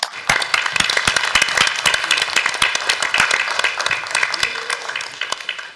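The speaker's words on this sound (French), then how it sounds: "On peut les applaudir." Applause at a town council installation session in Ploemeur, with distinct hand claps that build into a steady, fairly close round and then taper slightly toward the end.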